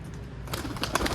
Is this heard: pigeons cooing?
yes